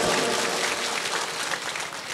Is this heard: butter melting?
no